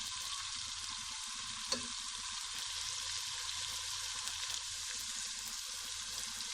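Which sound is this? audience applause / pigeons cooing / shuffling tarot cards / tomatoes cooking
tomatoes cooking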